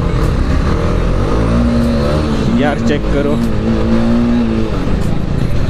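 A KTM RC 390 motorcycle engine roars continuously in a race through traffic, a loud, steady drone that swells in pitch partway through, with someone talking over it.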